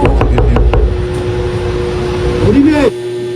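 A rapid series of about five sharp knocks on a door in a school, loud and close, followed by an engine-like hum and a rising tone.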